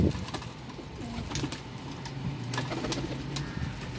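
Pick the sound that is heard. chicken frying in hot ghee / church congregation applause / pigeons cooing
pigeons cooing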